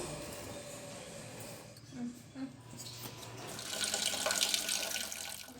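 Rice, urad dal and fenugreek seeds being washed in water make a steady low swishing and trickling, with the sloshing growing louder and splashier toward the end.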